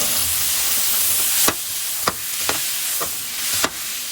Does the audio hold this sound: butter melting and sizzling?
yes